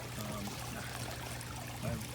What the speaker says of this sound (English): That's how you put water back in the pond.